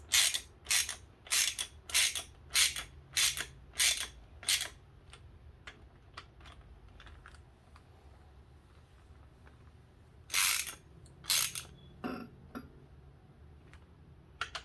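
A ratchet working ARP connecting rod bolts on a small-block Ford engine during piston and ring installation, a rapid series of sharp clicking strokes, then a quiet gap before another burst of clicks, close and alone.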